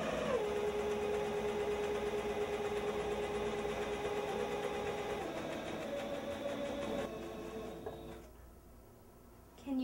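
A sewing machine stitching curtains runs at a steady speed, its motor giving a continuous whirring hum, then slows and stops near the end.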